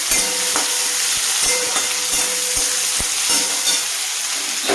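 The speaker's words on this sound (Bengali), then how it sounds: "এইবার দেখো তেলের মধ্যে এই 3টে পেঁয়াজ বেরেস্তা করে এটাকে বেরেস্তা করে নিয়ে আসছি।" Three sliced onions fry in hot oil toward golden brown for a chicken dish, a loud continuous sizzle close up with light clicks and knocks of a spatula against the pan.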